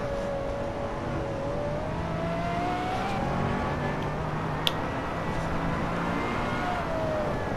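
Race car engine of a Mazda 787B in a racing video game, a steady droning whine that rises slowly in pitch, with a faint higher engine tone and a brief sharp click partway through, no talking.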